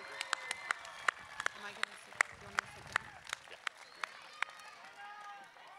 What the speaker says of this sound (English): Students, show your appreciation to these incredibly dedicated educators with a round of applause.